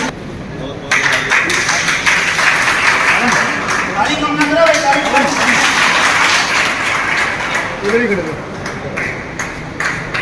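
A crowd at a Hisar, Haryana ceremony honouring e-rickshaw drivers claps steadily and loudly from the first second onward, while ringing tones and voices sound over the applause.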